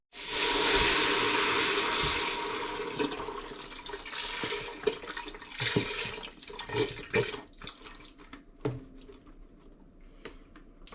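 Stock pours into a pot of Maryland crab soup in a long, steady liquid rush that gradually tapers into splashes and dribbles.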